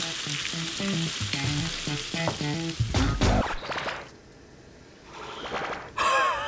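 Food sizzles and crackles in a hot pan, with clattering and a few sharp knocks as it's stirred; the hiss swells loud toward the end.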